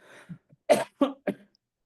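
Three short, close coughs in quick succession, preceded by a faint throat-clearing sound.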